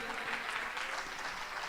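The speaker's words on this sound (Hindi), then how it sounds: "सरोज के लिए भी हम जोरदार ताली।" An audience at a church worship gathering claps in a dense, sustained burst of applause, steady and moderately loud throughout.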